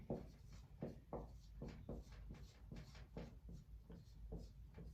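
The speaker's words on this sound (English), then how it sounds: "So let's write that down." Pen or pencil writing figures on paper, a quiet close series of rhythmic scratchy strokes, each short and repeated steadily with no talking.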